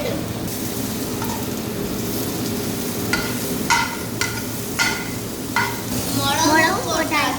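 Green unripe tomatoes sizzle and fry steadily in a pan for a tomato side dish, with several sharp scraping stirs of a spoon against the pan and a bubbling hiss that rises near the end.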